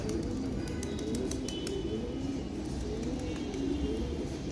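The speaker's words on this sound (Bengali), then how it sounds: "এটা একটা আর্মি লাইনার কবুতর" Army liner pigeons in a loft coo softly and repeatedly, a low murmuring call sitting under steady background noise with faint chirps above.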